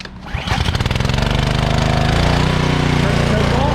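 A Ryobi gas pressure washer engine, which has a broken thermal limiter, fires on the first pull and settles straight into a loud, steady, rapidly pulsing run close by.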